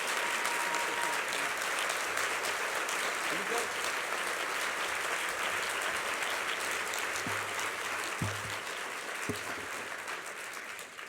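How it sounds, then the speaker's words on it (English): Conference audience in a large hall applauding a speaker in a sustained, dense wash of clapping that continues throughout and tapers slightly at the end. "Please join me, stand to your feet, and give Deborah a round of applause and support."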